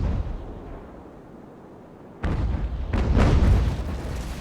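Sailing ship cannons boom in a naval battle in Ultimate Admiral: Age of Sail, a quiet lull giving way to a sudden loud broadside and a second, heavier roll of overlapping blasts that rumble on.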